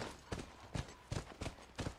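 Horse hooves clip-clop at a steady walking pace in The Last of Us video game, five or six soft, even thuds heard fairly close and alone.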